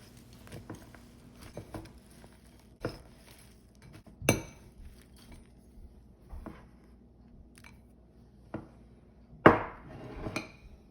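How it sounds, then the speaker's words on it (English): A fork stirs cookie dough of butter, brown sugar and chocolate in a bowl, making quiet scattered scrapes and light clinks, with a few sharper taps and a louder clatter near the end. "now, the fork, time to stir"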